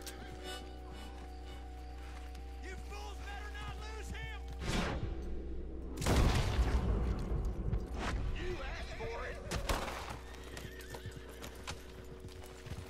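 Horse in the Red Dead Redemption 2 video game, galloping hooves thudding steadily under a sharp, loud whinny midway, with someone talking quietly over parts of it.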